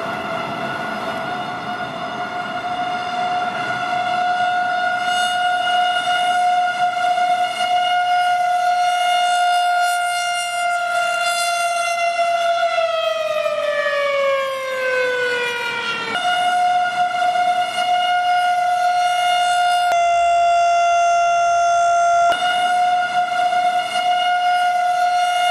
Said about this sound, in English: Now here's the same siren, but as I'm driving in the car.